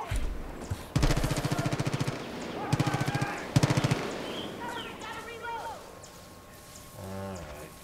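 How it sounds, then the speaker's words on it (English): Bursts of automatic gunfire ring out in Far Cry 5, several rapid volleys from a machine gun in the first half, followed by quieter game ambience with bird-like calls. "Who's doing all that shooting over here?"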